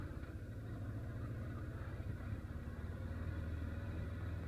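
A Kawasaki 550 motorcycle engine rumbles steadily while riding through a park, a low, continuous drone at moderate level with no voices.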